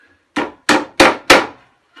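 Four firm hammer taps on a fitting during a new narrowboat build and fit-out, evenly spaced and loud up close, each a sharp strike with a short ringing decay.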